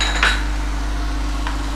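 A utensil scrapes and clinks against a pan while chili, coriander and cumin powders are stirred together for a chicken curry, two brief metallic touches over a steady kitchen hum.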